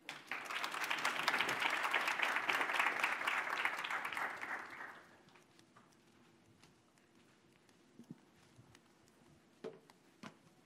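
Workshop audience applauding loudly as presenters are welcomed, a dense sustained clatter of many hands that fades out after about five seconds, leaving a quiet room with a few faint scattered knocks.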